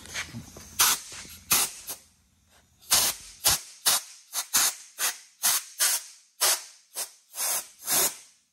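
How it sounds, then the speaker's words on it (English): Short bursts of compressed air from a nozzle blow clean a Toyota A340E transmission valve body, a loud close hiss repeated in quick irregular puffs, about fifteen in all, with a quiet pause early on. "after you get done with the cleaning, take a air nozzle"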